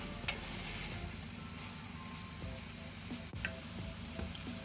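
Red cabbage sizzles in a pan for a cabbage and apple compote with lardons, a steady, soft frying hiss with faint crackles throughout and no talking.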